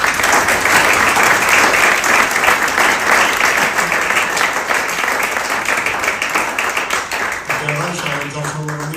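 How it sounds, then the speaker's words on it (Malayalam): Loud, sustained applause from an audience honoring singers after their songs at a church-style school awards gathering, steady dense clapping that gradually thins and fades near the end. "ഇന്ന് മനോഹരമായി ഗാനങ്ങൾ ആലപിച്ച അവർക്കൊരു നല്ല കൈയടി."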